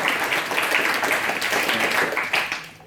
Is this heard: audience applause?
yes